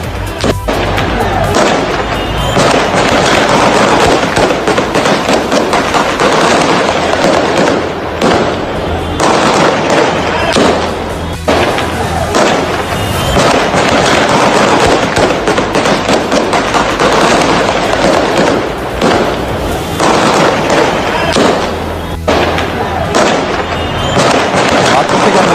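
Indiscriminate gunfire at a protest crowd in Afghanistan, dense rapid cracking shots in a continuous loud barrage, with voices shouting underneath.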